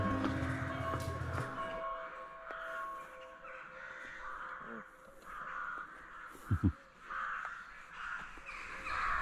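Crows caw several times at a distance over a steady outdoor background hum, with no talking.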